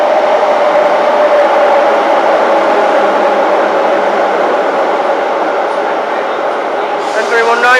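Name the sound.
Class 319 train arriving at London St Pancras International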